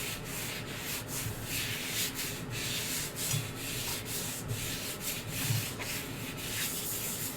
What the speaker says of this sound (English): you just keep going around and smoothing until you're satisfied